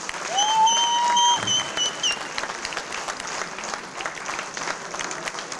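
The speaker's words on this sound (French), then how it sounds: "On les applaudit encore une fois." A crowd applauds the squad of around fifty rugby players at a club event in Sarlat. The applause is broad and steady, loudest at the start and easing slightly, with a brief whistle-like tone early on.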